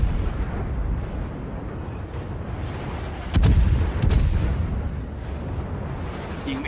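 Heavy naval guns from the American cruiser Salem in World of Warships boom in two loud, close salvos about a second apart over a steady rumbling game background.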